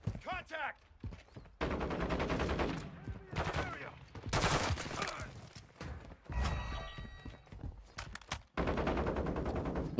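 Rapid bursts of VEL 46 submachine gun fire in a video game, loud and close, coming in several separate strings with short pauses between them.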